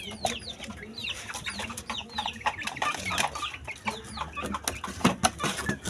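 A young stag rooster of dark talisay plumage clucks repeatedly in short, close, irregular bursts, with other fowl and faint farmyard noise around it.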